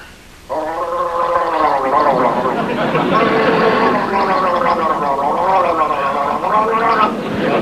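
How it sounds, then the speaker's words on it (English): A man gargles loudly and theatrically, a bubbling, warbling wet tone held almost continuously for about seven seconds after a brief quiet start, pitch wavering up and down like yodeling. "Any normal person would gargle quietly"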